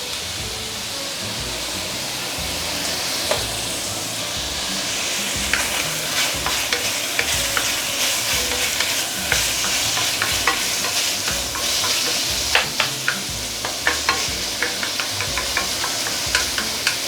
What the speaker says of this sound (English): Allow the chicken to char a little bit.